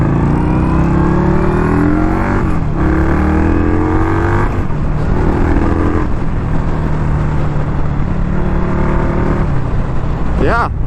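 A 2021 Indian Scout Bobber motorcycle pulls hard in first gear, its engine note climbing steadily and loud throughout, with other riders' engines pulling away nearby and a rising whine near the end.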